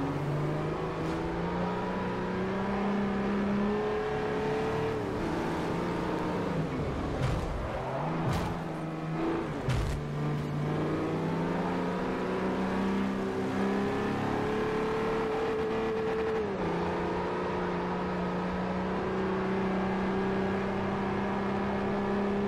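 An SUV engine in the Forza Motorsport 4 racing game revs steadily and loudly, rising and falling through gear changes with a couple of sharp dips, a sustained close motor drone throughout.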